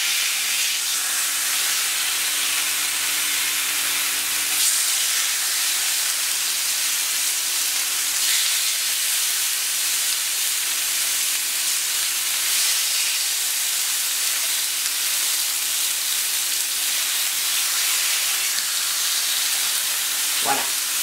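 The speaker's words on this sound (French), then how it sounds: "nous allons faire juste un aller-retour sur la plancha" Pork escalopes marinated in whisky and maple sear on a hot plancha, a loud, continuous hiss of sizzling that holds steady and unbroken for about twenty seconds.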